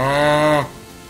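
A single cow moos in Minecraft, a steady harmonic low call lasting about half a second before cutting off into quiet background hum.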